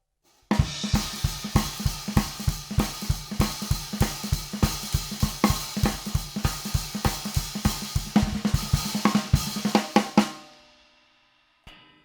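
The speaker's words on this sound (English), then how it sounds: "Just open the hi-hat a tiny bit. Give it that dirty, sizzling sound" A swing groove on a drum kit, the hi-hat opened slightly so it sizzles dirtily on every beat. The rhythm is steady and close, runs for about ten seconds, then stops abruptly and rings out. No voices.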